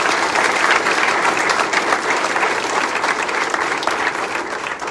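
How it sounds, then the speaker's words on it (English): A crowd gives the mayor a sustained, full round of applause, dense steady clapping filling the room throughout with no gaps. "please give the mayor another round of applause if you don't mind"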